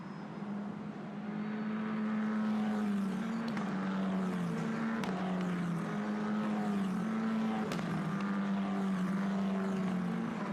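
At the Mugello circuit, race cars pull away behind a safety car, a loud sustained engine drone with shifting pitch as several cars pass close by, with no talk over it.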